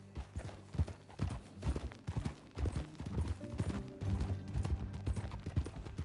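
Steady clip-clop of horse hooves trotting in the video game Red Dead Redemption 2, close and continuous, with a rhythmic uneven beat throughout.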